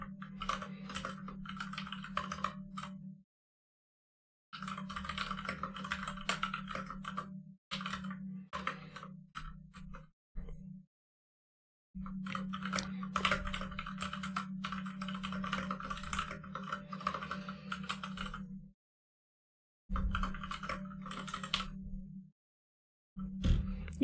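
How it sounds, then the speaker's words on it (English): Loud, rapid clacking of a mechanical computer keyboard comes in bursts separated by short silences, close and crisp, with a steady hum under the typing. "You type so loud, Anya."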